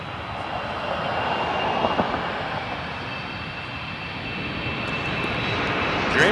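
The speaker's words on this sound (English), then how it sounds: "Dreamliner coming up." A Boeing 787 Dreamliner jet at Toronto Pearson airport gives off a broad, steady engine roar that swells slightly and holds, continuous and fairly close throughout.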